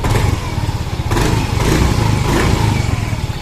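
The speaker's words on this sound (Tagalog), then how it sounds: "nakabukas yung makina niya" A motorcycle engine fitted with a two-way anti-theft alarm idles close by, with a loud, steady, rumbling running sound that swells slightly now and then.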